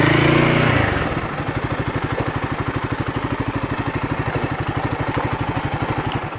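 A Royal Enfield Guerrilla 450 motorcycle idles close by with a steady, even single-cylinder thump, after a brief louder rev settles into a regular putter.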